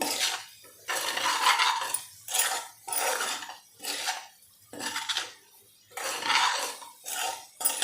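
A spatula stirring spices in oil in a pan, heard as repeated bursts of scraping and clinking in an irregular rhythm with short quiet gaps, close and fairly loud, with no talking.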